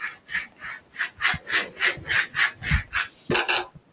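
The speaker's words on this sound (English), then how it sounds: "go ahead and squeegee the design on" A rubber squeegee scrapes repeatedly across a stencil laid over a dry-erase surface, about a dozen evenly paced rasping strokes, close and fairly loud, with no voices.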